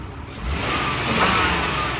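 A Braun mobility van's 3.8 V6 engine idles steadily at close range, a smooth continuous hum with a slight swell partway through and no voices.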